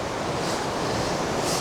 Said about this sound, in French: J'espère que là tu m'entends bien, il y a la rivière à côté.